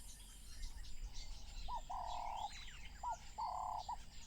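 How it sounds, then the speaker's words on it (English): Wading birds call at a marsh at sunset in southern Africa: a few short, clear, tonal calls repeat at a moderate distance over a steady low background hum. "At sunset, as the temperature falls, the wading birds join the scene."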